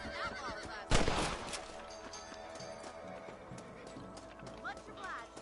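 Horse hooves clip-clopping with a whinny in the Western video game Red Dead Redemption, a sharp loud burst early then rhythmic hoofbeats and snorting, mixed with game voices and background effects.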